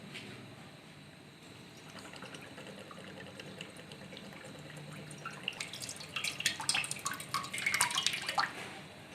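About one litre of water splashes and trickles into a metal wok on a stove, starting softly and growing louder and busier toward the end, with no talking.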